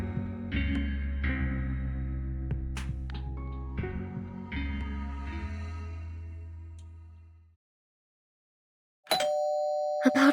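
A chiming doorbell in the video game Reverse: 1999 rings out in a few clear, sustained tones that fade away, followed after a short silence by another bright electronic ding.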